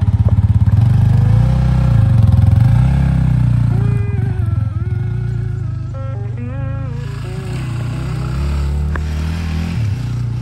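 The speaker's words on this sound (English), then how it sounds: "After breakfast, Jeremiah rode into Missoula for some more bike repairs." A motorcycle engine runs loud and close throughout a ride toward Missoula for bike repairs, its note rising and shifting as the rider changes speed.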